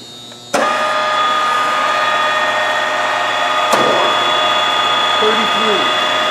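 Hitachi Seiki 2ML-P plain horizontal milling machine powering up and running with a sudden onset, then a steady mechanical hum with tonal whine and a brief clunk midway.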